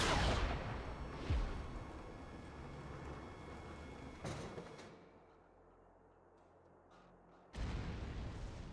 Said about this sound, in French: Actionnez le canon à nouveau.